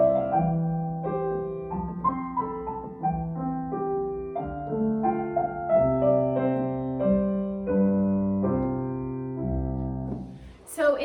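Piano improvisation in the style of Twinkle Twinkle Little Star, with both hands and an added scale run. Steady, moderately loud melodic notes sound over sustained left-hand tones for about eleven seconds and end on a final chord.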